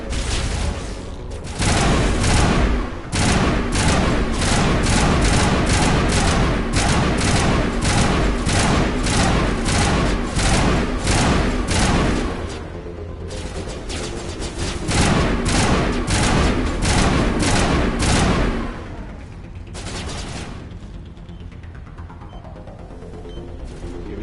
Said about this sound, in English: I'm being shot at, though.